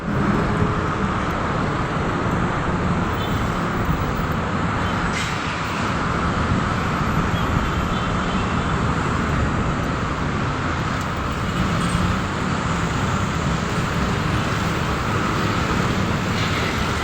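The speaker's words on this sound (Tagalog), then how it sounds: "Traffic na." Dense street traffic heard while walking in the Philippines, a loud, continuous wash of engine and road noise with no clear breaks, close and enveloping.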